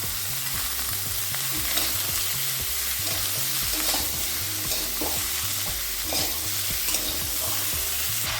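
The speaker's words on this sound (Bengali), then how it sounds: "এই ফোড়নের সঙ্গে ওলটাকে একটু ভেজে নিচ্ছি" Kohlrabi frying with spices, salt and turmeric in a pan, a dense continuous sizzle close up with a regular rhythmic scraping of a spoon stirring through it and no talk.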